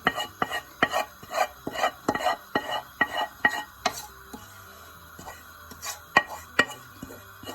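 Chicken pieces for Bahari malai boti being mixed with masala in a bowl: a run of soft clinks and scrapes in an uneven rhythm for about four seconds, then a quieter stretch with a few sharper knocks, close by.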